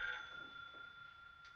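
A telephone ringing in a 1958 film scene, one sustained electric bell ring near and clear, fading into a quiet room.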